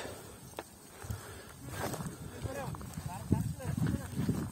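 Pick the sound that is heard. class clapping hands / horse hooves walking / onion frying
horse hooves walking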